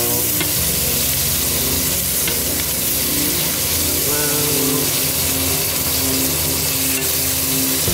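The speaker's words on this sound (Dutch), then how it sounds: "En die zijn klaar om gebakken te worden" Steady loud sizzling and crackling of potatoes frying in a pan, continuous throughout with faint clatter and background noise.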